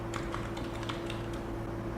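Typing on a computer keyboard while editing a spreadsheet chart title, a quick run of light clicking keystrokes over a steady low hum, close and moderately quiet.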